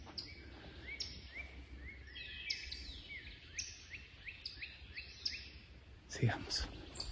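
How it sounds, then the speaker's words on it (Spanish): Small birds chirp and tweet in repeated short calls across a quiet countryside setting with no road noise nearby, fairly distant and clear over faint ambient hiss, with a brief louder rustle near the end. "Hay silencio absoluto excepto los pajaritos."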